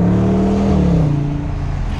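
A 2021 Dodge Charger Scat Pack Widebody engine revs loud and close, a steady deep roar that rises slightly then eases, with no talking.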